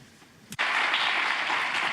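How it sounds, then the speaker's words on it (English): Conference audience at a climate summit in Japan bursts into sustained applause for the panelists, starting abruptly after a brief sound and continuing loud and dense with many hands clapping. "A big round of applause to our panelists"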